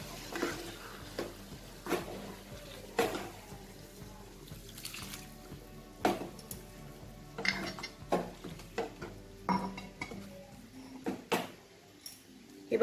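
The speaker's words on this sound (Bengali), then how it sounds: "এবার এটাকে খুব ভালো করে মেশাবো আমি।" Egg tarka dal mixture being stirred in a pot, with a spoon scraping and clinking in an irregular rhythm over watery sloshing, close and moderately loud, a voice speaking faintly at moments.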